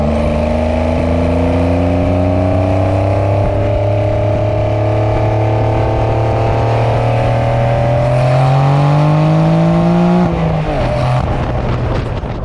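Porsche 992 Carrera T turbocharged engine and exhaust heard from outside as it revs up, a strong steady drone rising gradually in pitch over about ten seconds, then easing off abruptly near the end.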